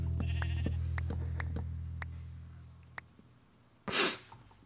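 Sheep bleating in Minecraft, a few short bleats early on over a low steady drone, followed by a louder breathy snort-like burst near the end.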